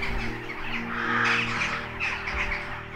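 Crows calling as they gather at a winter woodland roost, a few harsh caws layered over a low steady background hum, moderately distant and fairly faint.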